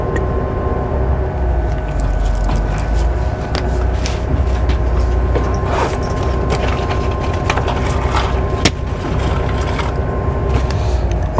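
Passenger train diverted from GWR to Euston running along a normally freight-only section near Acton Wells Junction, a steady loud interior rumble with rhythmic wheel clatter and rattling carriage noise throughout.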